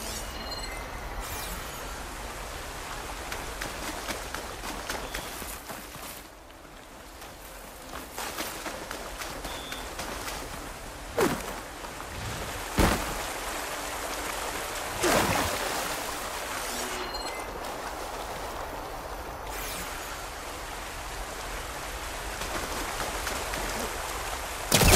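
A steady rushing wash of falling water from a waterfall in the video game Horizon Forbidden West, broken by a few sharp thumps and clicks.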